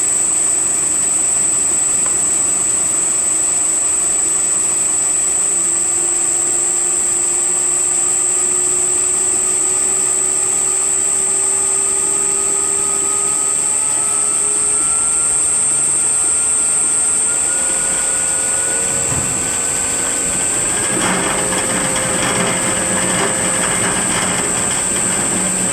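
1940 Hercus lathe motor run on a variable frequency drive, a steady high electronic whine with a lower motor tone slowly rising in pitch as it speeds up, continuous and close with no talking.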